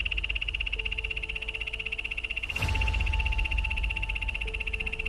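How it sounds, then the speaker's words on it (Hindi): A poison dart frog calls by a jungle pond in the Amazon, a rapid steady trill running continuously over several seconds, loud and close with insect-like buzzing beneath and no speech. "ये एक मेंढक की आवाज थी जिसका नाम पॉइजन डार्ट फ्रॉग है"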